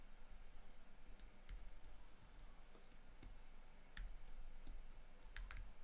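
Someone types on a computer keyboard while coding, the key clicks coming in quick, irregular bursts with brief pauses, close and fairly quiet, no talking.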